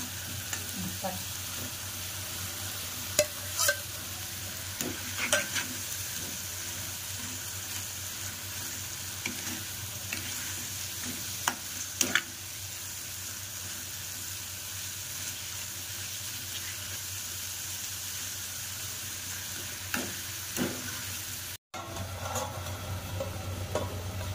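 Potatoes added to roasted masala fry in a pan with a steady, continuous sizzle and faint occasional stirring clicks, close and even throughout.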